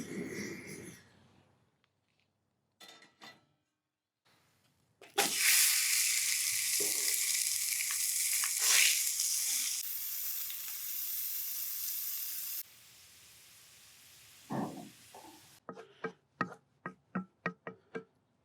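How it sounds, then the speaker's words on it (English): Ground beef and other meats sizzle as they brown in a skillet on a grill side burner, a loud bright hiss that starts abruptly and holds, then gives way to scraping and clinking stir strokes. "It's time to really brown up the meats that need to be cooked."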